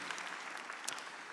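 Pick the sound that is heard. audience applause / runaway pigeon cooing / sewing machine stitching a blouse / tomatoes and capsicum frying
audience applause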